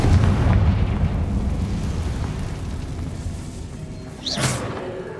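Deep rumbling blast of the Confringo fire spell in Hogwarts Legacy, loudest at the start and decaying slowly, with a brief sharp magical flare near the end.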